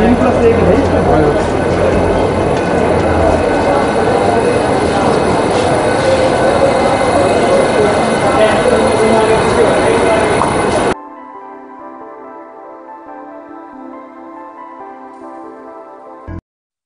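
Vande Bharat Express train rumbling loudly and continuously nearby with dense rolling noise, which then cuts abruptly to quieter sound with music; a person speaks over parts of it.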